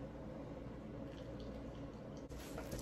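Water poured from a cup into a bowl of boxed cake mix for cupcakes, already holding oil, a steady low splashing trickle that runs close and continuous for nearly three seconds with no talking.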